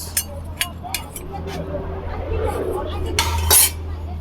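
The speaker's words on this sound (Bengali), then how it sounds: "এগুলো চামচ" Brass spoons and a brass spatula, old ship salvage goods, clink together in a quick series of bright metallic taps near the start, then scrape softly, while a voice talks throughout.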